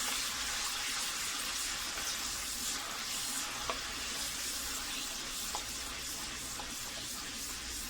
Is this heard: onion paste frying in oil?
yes